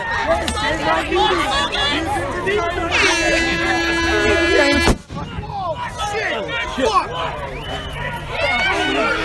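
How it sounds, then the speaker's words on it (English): At a street protest in Berkeley with police a few feet away, a stun grenade goes off as one sharp, loud bang amid a dense, shouting crowd, with a shrill tone ringing beside it. "A stun grenade was just thrown."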